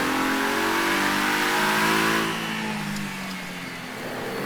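Ferrari Dino V6 engine revving: a loud, rising mechanical growl that climbs in pitch, then eases off and settles into a steadier drone, with no voices over it.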